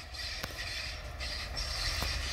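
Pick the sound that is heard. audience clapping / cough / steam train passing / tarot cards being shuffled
steam train passing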